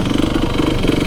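A 1974 Honda MT250 two-stroke enduro motorcycle idles close by in the woods, a loud, steady, rapid low burble with a gritty mechanical rattle and no talking.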